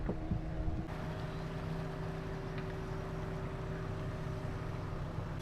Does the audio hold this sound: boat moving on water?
yes